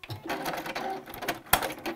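Sewing machine back stitching the seam of a round fabric pouch, a steady close whirring run of needle strokes with a brief louder knock partway through.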